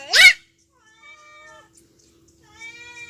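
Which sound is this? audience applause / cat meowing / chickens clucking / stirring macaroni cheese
cat meowing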